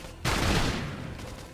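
A loud burst of gunfire in Xenoblade Chronicles X breaks in suddenly and rolls on as a dense, sustained barrage that slowly fades toward the end.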